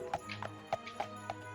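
Horse hooves clip-clop at a steady walking pace in the video game Daggerfall Unity, five or six distinct clear beats over a soft ambient background, with no talking.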